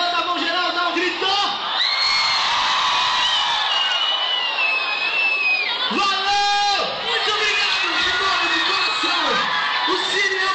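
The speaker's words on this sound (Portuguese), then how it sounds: "Dá um grito." Concert crowd at a pop band's show in Santos shouting, whooping and screaming loudly on cue, a dense sustained roar with raised voices cutting through.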